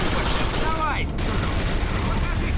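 Rapid gunfire from the shooter game Quake 4 fills the clip loudly and without a break, with dense bursts of shots and a voice speaking over the shooting.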